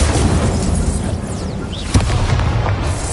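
Incendio fire spell cast in Hogwarts Legacy, a loud roaring blast with a sharp burst partway through over continuous dense rumble.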